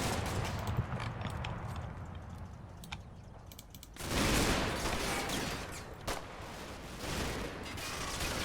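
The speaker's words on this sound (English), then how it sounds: "It looks like it might just be area firing in there." Area fire from tanks and guns in the Combat Mission video game, with bursts of machine-gun fire and a louder barrage swelling midway, continuing steadily, with no talking.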